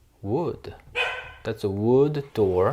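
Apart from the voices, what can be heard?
poodle dog barking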